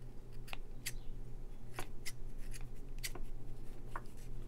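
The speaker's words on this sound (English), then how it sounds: "what I want to do is I want to do some trimming of these threads that are here" Scissors snipping loose threads on a stitched rope bowl: a handful of short, crisp, scattered snips against a steady low hum, close and fairly quiet.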